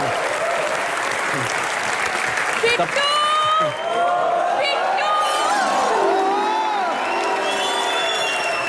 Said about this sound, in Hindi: एक बार रजत जी के लिए जोरदार तालियां।